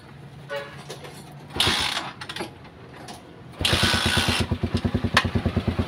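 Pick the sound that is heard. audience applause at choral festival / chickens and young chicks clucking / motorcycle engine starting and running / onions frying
motorcycle engine starting and running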